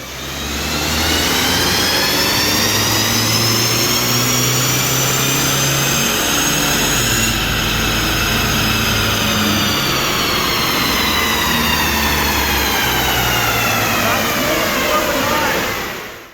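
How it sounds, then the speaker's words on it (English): A VW Passat MK6 TDI diesel engine runs on a dyno, its loud steady drone holding and rising in pitch through a long pull, a continuous mechanical roar from start to finish. "today we're taking the Passat to the dyno"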